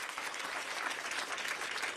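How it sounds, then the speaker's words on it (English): A crowd at a political campaign event applauds steadily, a dense wash of clapping that holds at an even level throughout. "that is deserving of applause"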